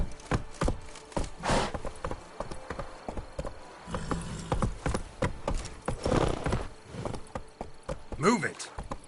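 Hooves of a trotting horse clip-clop in quick uneven beats in the Witcher III video game, close and clear, with a voice speaking briefly and a short whinny near the end.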